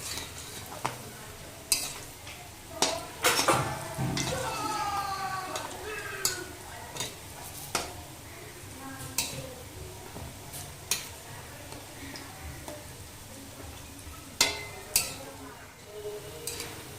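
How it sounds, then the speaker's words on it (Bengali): Banana blossom koftas fry gently in oil on low heat, a soft low sizzle under repeated clinks and scrapes of a utensil against the pan, with a voice talking at moments. "সবগুলো কোপ্তা আমি লম্বা লম্বা করে গড়ে তেলে দিয়েছি এখন ধিমে আছে"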